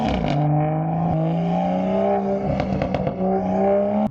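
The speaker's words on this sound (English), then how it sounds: "We have this amazing inline 6 engine that makes some beautiful sounds" A straight-piped, catless BMW M2 inline-six revs loudly and close by. Its deep, raspy exhaust note swells and falls through several blips, with crackles near the end, and no voices are heard.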